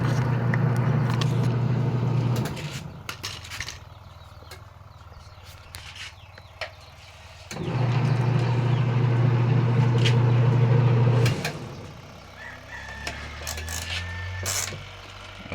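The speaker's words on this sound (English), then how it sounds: "We will try the spin motor. This one is running." A washing machine spin motor runs on test during a repair, a steady loud motor hum that stops, goes quiet for several seconds with small clicks, then starts again before winding down.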